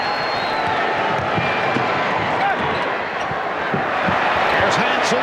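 A basketball arena crowd at Game 1 of the 1992 NBA Finals between the Bulls and the Blazers, a steady roar with cheers and scattered ball bounces beneath continuous commentary.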